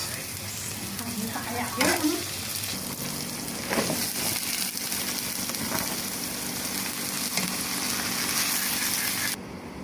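Tomatoes and onions sizzle steadily in a hot pan, a continuous frying hiss with occasional scrapes and stirs of a utensil, close and fairly loud with brief talk over it.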